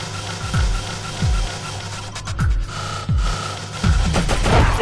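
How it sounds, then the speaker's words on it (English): Repeated gunfire in the video game Oddworld: Abe's Exoddus, a run of several loud, booming shots at regular intervals with fuller bursts near the end, heard over steady game background noise and no talk. "Why would you shoot just now?"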